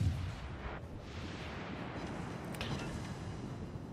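Naval gunfire from ships in the World of Warships video game, with heavy low booming rumble throughout and a couple of faint distant blasts, no voices.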